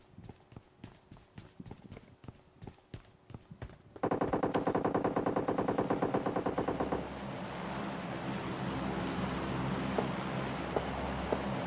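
Nearby automatic gunfire in PUBG Mobile Lite: a string of quieter rhythmic thuds gives way to a loud, rapid stream of shots lasting a few seconds, followed by a lingering wash of noise.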